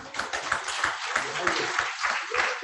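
An audience at a fellowship induction ceremony claps in a scattered, uneven burst of applause, with a voice speaking over the clapping.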